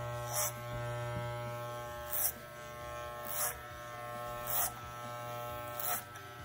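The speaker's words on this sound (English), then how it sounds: "The clipper over comb worked really well." Electric hair clippers cut a boy's hair over a comb: a steady close buzz broken by about five brief, harsher bursts as the blades pass through hair.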